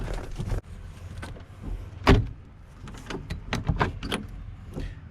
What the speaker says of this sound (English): I just can't get the door open